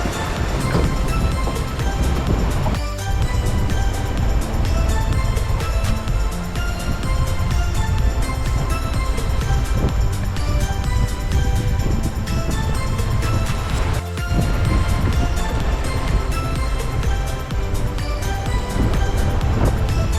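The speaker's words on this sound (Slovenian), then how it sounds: "Evo, tu so valovi ob španski obali." Sea waves and wind off the Spanish coast near Almerimar, heard aboard a sailboat in about 20 knots of wind; a loud, constant rushing wash with occasional surges and no talking.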